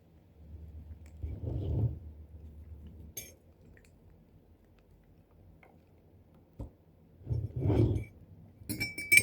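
A spoon clinks against a glass while stirring an unsweetened drink, two bursts of close, ringing taps separated by quiet, with a few sharper clinks near the end.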